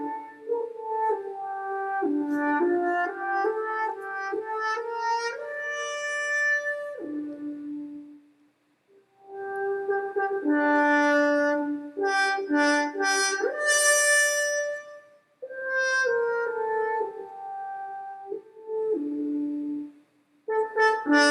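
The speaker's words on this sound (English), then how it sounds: "And that is the French horn." A French horn plays a mellow, veiled melody in a short series of sustained notes and phrases, with brief pauses between them. The horn sounds clear and fairly close, heard alone with no voices.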